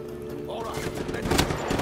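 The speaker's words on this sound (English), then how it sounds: "there's also like big machine guns" Machine gun fire in Just Cause 3 rattles in rapid bursts under a game battle din and grows louder toward the end.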